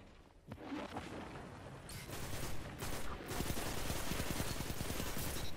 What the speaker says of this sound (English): Auto rifle destroys folks.